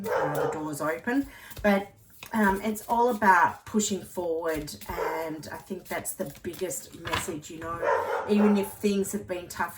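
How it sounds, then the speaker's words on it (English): A dog barks and yips in short, intermittent bursts under steady close talking, the barks partly masked by the voice. "please excuse my dog barking"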